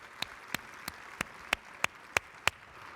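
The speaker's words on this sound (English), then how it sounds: "Could we have a round of applause" At a conference opening session, eight slow, evenly spaced hand claps ring out, faint against a quiet room.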